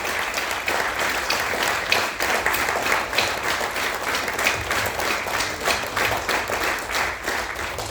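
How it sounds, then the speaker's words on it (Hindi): Sustained audience applause fills a hall at a talk, dense and steady clapping from a large crowd continuing loudly without a break. "तालियां जोर से कंटिन्यू कंटिन्यू कंटिन्यू, जोर जोर से कंटिन्यू प्लीज"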